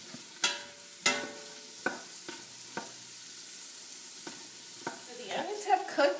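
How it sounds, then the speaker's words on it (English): Onions and garlic sautéing in melted butter in a pot, a soft low sizzle broken by several sharp clinks and scrapes of a spoon, with more stirring clatter toward the end. "I'm going to add the onions and the garlic to it. Now we're just going to let this cook a little bit"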